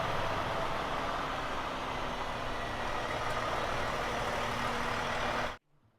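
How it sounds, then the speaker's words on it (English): Heavy trucks, including tri-axle Kenworth T659s, roll into Victoria Park in Adelaide for a truck convoy, a constant loud diesel rumble and road noise that runs steadily before cutting off abruptly near the end. "Trucks continued to arrive at Victoria Park as the sun rose, including some of the Hallett Group trucks, led by 4 of their distinctive tri-axle Kenworth T659s"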